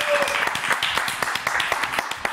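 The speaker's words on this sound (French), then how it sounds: "on peut encore applaudir" An audience claps for a guest on a French show, with a fairly close, steady patter of individual hand claps that carries on throughout.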